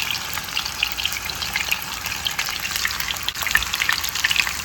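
Zucchini, peppers and onions frying in a hot pan, a steady close crackling sizzle with dense spattering pops throughout, no voices.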